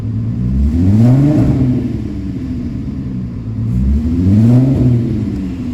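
A freshly rebuilt VR6 engine in a VW GTI runs steadily at close range, with a low rumble that swells and eases twice as it revs. The power steering pump may add a whine, though it cannot be picked out in the engine sound.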